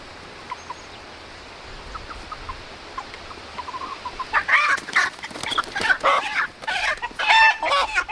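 Splash Marans chickens cluck faintly at first, then break into a close, loud flurry of agitated clucks and squawks as they are picked up, with rustling throughout.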